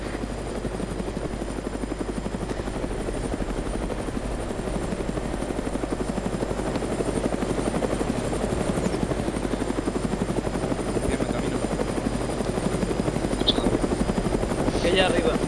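Black Hawk helicopter in the military video game ArmA III, its rotor and engine drone steady and loud throughout, with voices talking faintly underneath.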